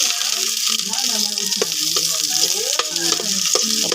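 Ginger and onion fry in a pan with a loud, continuous close sizzle, broken by scraping stir strokes and a few sharp clacks, over a faint tonal background.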